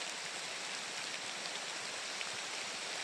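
Steady, soft hiss of falling rain, even and unbroken for the whole stretch, with no voices over it.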